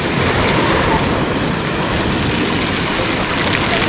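Sea waves break at a beach pier on the Black Sea coast at Lazarevskoye in 2020, a steady loud wash of surf mixed with wind buffeting the microphone and no talking.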